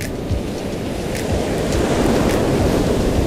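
Small surf breaking on calm, flat water along a beach, a soft continuous wash of low rumbling waves with wind across the microphone, steady and close, no voices.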